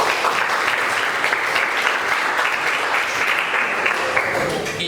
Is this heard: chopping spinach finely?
no